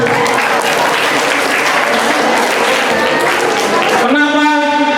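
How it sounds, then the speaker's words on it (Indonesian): A room of students at a Ramadan flash Islamic boarding-school session bursts into loud, dense applause that holds steady throughout, then cuts off near the end as a tonal sound takes over. "Tepuk tangan dulu untuk teman-temannya."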